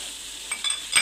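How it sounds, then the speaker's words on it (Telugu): Vegetables with masala stirred and fried in a pan for poha, a steady soft sizzle with brief scraping strokes of a utensil, close up, no talking. "వెజిటేబుల్స్ అన్నీ వేసిన తర్వాత ఇలా ఒకసారి బాగా మిక్స్ చేసుకోండి. ఈ మసాలా అంతా బాగా ఫ్రై అయిందండి."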